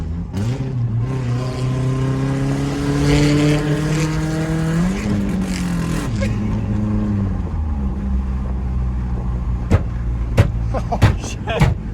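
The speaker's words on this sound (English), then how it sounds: "Oh, backfired." Very loud Ford Ranger engine with an open, rough exhaust, revving up and down in long swells, then several sharp backfire pops near the end, with a voice briefly audible underneath.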